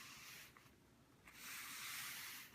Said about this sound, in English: So I've finished polishing the spot, so I'm going to wipe some of this material off